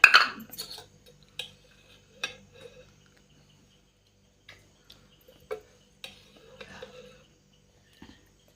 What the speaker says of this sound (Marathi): आता भाजी टाकतो बघा फोडणीला आता कढईत करायला पाहिजे